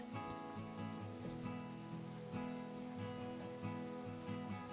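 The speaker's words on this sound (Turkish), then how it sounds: "burada onların üzerini geçecek kadar su ilave ediyorum" Water poured into a pot over chicken legs for Turkish paça soup, a steady, fairly quiet splashing and trickling stream that runs unbroken and alone.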